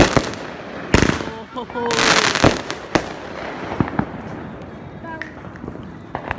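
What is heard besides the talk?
Fourth of July fireworks finale exploding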